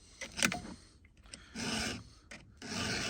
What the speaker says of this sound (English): when I'm sharpening, I'm trying to follow roughly the guide of the line at the back of the chain